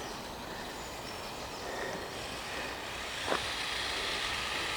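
Small WPL 14 FAV RC truck's 280 motor running at full speed, a steady high whine with gear noise, continuous and fairly close, with a brief pitch sweep near the end.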